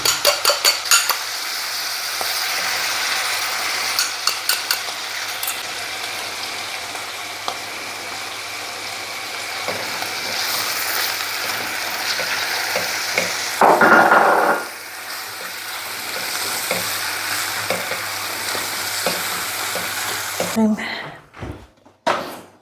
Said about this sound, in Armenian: Այստեղ նույնը չեմ կարող ասել սնկի մասին, սա պետք է դեռ լավ տապակվի